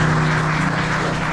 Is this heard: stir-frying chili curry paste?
no